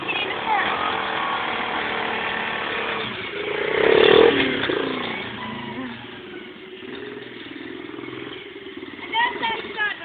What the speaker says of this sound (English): So rev it slightly while holding the brake on,